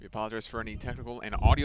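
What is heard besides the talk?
None of the usual background noises is heard.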